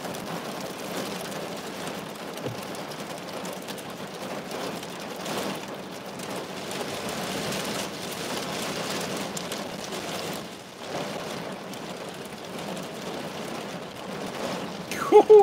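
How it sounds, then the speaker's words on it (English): Heavy rain driven by strong wind during Storm Franklin in Norfolk, a dense, steady roar of downpour and gusts close to the microphone, continuous throughout. "It's really windy and really hammering down with rain"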